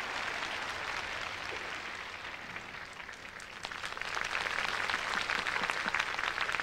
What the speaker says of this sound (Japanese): 場内からため息とそして拍手が漏れました。